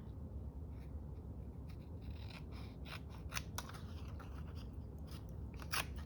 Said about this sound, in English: We could use some scissors.